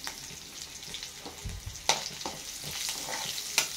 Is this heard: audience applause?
no